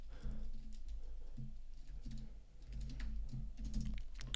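Keystrokes clatter at a steady, uneven pace on a computer keyboard, with short bursts of clicks over a low background hum and no voices.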